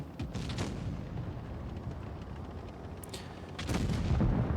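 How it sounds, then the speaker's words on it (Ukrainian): Tank cannon fire from the GSOR tank in the World of Tanks Blitz video game: a few sharp booming shots at the start and again later, over a steady low battle rumble, with no talking. "тому в мене з дотримкою йдуть постріли"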